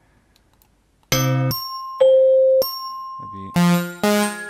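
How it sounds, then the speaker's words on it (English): Bell-like plucked sample notes from the Vengeance Avenger synth, played as a short sequence of bright, ringing tones with sustained harmonic decay, some notes overlapping, loud and close with a quiet word spoken just before. "the bells again"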